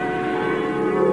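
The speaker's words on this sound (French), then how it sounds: "C'est la cloche qui annonce la paix." In a cartoon, a church bell rings to announce peace, a sustained, resonant metallic tone holding steady and loud throughout with no voices.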